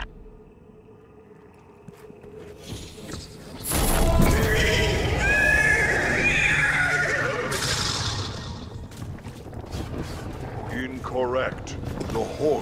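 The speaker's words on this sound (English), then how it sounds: "Incorrect. The horse is displeased." A horse in the Destiny 2 video game lets out a loud, drawn-out neigh and whinny over a dense layer of game effects, followed by snorts and fainter whinnying.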